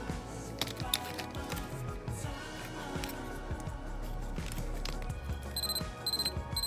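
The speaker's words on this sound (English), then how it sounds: "Okay, let's get the alarm set." Short electronic beeps from an alarm timer being set during outdoor grilling, a few quick chirps near the end over a busy background of clicks and ambient noise.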